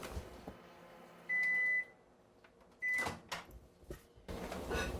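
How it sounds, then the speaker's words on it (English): A kitchen microwave oven heating two tablespoons of butter, with a long electronic beep followed by a shorter one and clunks and clatter of the door and dish around them, fairly close with no talk. "pop my 2 tablespoons of butter in the microwave for just a few seconds to"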